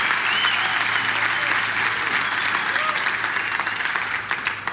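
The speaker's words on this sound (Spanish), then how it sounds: "denle un fuerte aplauso al Señor" A church congregation at a conference service applauds loudly and continuously, a thick steady roar of clapping with faint crowd murmur and a few whoops underneath, carrying on without pause.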